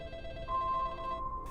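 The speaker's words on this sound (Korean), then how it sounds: "그리고 수십 분이 지난 후 G에게 전화가 왔습니다." Telephone ringing for an incoming call, a faint electronic ring tone sounding once briefly and quietly over a low background hum.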